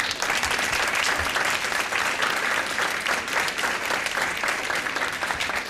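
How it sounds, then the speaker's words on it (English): Families at an academic awards ceremony receive a round of applause, a continuous, even rush of many hands clapping throughout, steady and fairly distant. "So give your families a round of applause."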